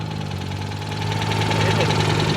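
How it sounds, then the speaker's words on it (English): A Citroen Visa fitted with the 652 two-cylinder engine arrives with a steady, close-up air-cooled twin thrum like a 2CV, low pulsing hum holding even over a couple of seconds at a classic car show. "Jamie coming in his Citroen Visa. It's got the 652 engine. So it sounds like a 2CV"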